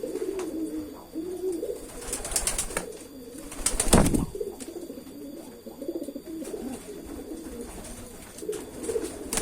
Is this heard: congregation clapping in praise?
no